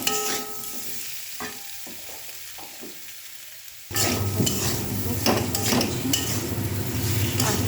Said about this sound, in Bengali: তারপর এবার এটাকে ভালো করে কষিয়ে নেব